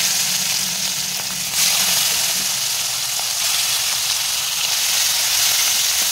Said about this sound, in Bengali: এবার কড়াইতে ওই তেলের মধ্যে আমি দিয়ে দেবো চিংড়ি মাছগুলো